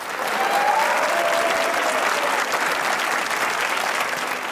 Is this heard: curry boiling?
no